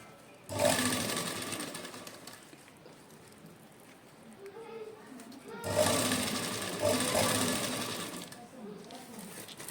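A sewing machine stitches wide pearl lace onto a dupatta in two close, steady bursts of whirring, with a quieter pause between them and low talk around it.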